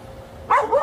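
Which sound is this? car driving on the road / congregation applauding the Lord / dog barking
dog barking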